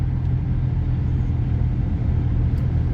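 A car on a road during a driving lesson gives a steady, low rumble of engine and tire noise from inside the cabin, continuous and even for the whole stretch.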